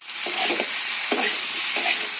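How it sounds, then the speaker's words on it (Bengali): Boiled potatoes fry with ground green chili paste in a pan, a steady close sizzle with three short bursts of stirring scrapes. "তার সঙ্গে এটা আবার একটু ভালো করে ভেজে নেব।"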